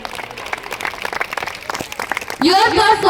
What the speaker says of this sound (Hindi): थोड़ा मुस्कुरा के तालियां बजा दीजिए।